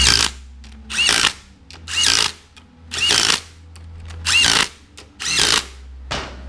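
A power tool drives a bicycle sprocket nut tight, six or seven loud whirring bursts of under a second each, close by and evenly spaced with short pauses between, with no speech.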